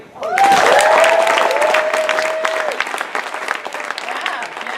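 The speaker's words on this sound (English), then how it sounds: "So round of applause." A stand-up comedy audience breaks into loud applause, with a whoop rising over the clapping early on before it thins slightly and carries on steadily.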